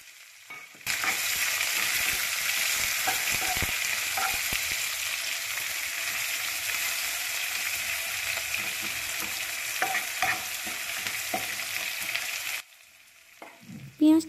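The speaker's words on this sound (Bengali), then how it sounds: "এবার কোঁচানো পেঁয়াজ দিয়ে দেব।" Sliced onions drop into hot oil with garlic paste, cumin and bay leaf and sizzle loudly and steadily for about twelve seconds, with occasional stirring clicks before the frying cuts off.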